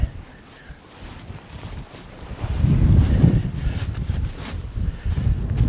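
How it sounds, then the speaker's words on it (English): Strong Chinook wind blows outdoors near a ranch shop with a close, steady roar that swells into heavier gusts partway through and stays loud to the end, with no voices. "When the wind blows like this"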